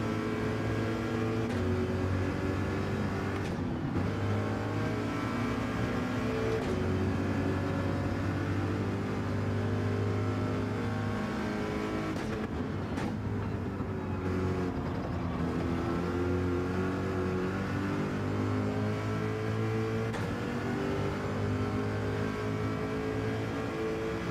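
A race car engine drones through a Gran Turismo 7 online lobby race, holding a steady loud hum with rising and falling revs, brief dips around gear changes and braking, and no talking.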